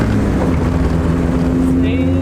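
A right-hand-drive Acura Integra being driven, its engine a steady low drone with road rumble throughout, loud and close from inside the cabin.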